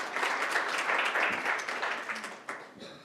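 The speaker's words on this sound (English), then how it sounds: "So if we get a round of applause for our panel." A meeting audience applauds a panel, with steady dense clapping from many hands that slowly thins out toward the end.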